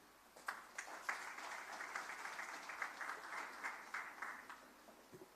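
Audience applause fills a town hall consultation session, a steady wash of many hands clapping for about five seconds before tapering off, with no voices over it.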